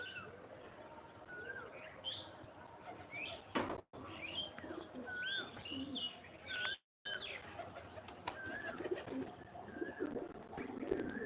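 Pigeons coo at a pigeon farm, repeated soft rolling calls from several birds at moderate distance, mixed with chirps and faint background noise, with two brief dropouts.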